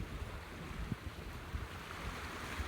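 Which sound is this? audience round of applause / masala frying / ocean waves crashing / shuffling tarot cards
ocean waves crashing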